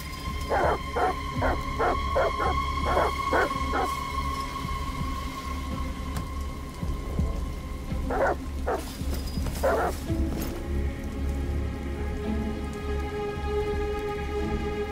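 Dogs in Detroit: Become Human bark in short repeated bursts through a steady downpour of thunderstorm rain, a rapid cluster early on and a few more barks later, all set against a constant loud hiss of rainfall.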